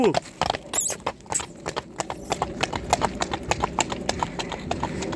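Working mares' hooves clip-clop in a quick, uneven rhythm on a hard surface, fairly close, with a short squeaky noise near the start.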